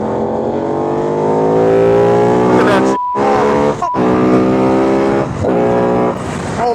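A Buell Super Cruiser motorcycle engine pulls hard at high RPM, a loud, steady, rising drone with a brief dip around a gear change before building again, up close and continuous.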